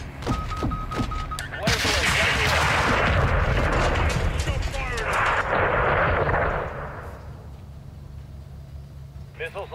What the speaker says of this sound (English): Get your knives ready. Incoming